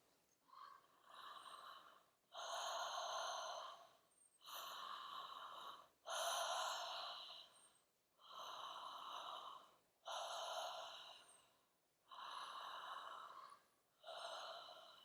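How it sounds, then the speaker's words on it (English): Deep, full human breaths in a guided breathing session, slow inhale-exhale cycles repeating about every two seconds, close and airy with no talk. "Big full breaths."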